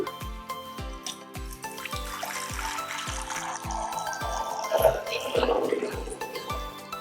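Water pours and splashes into a bowl for washing bitter gourds, a gurgling stream that swells toward the end, with a regular low thumping beat underneath.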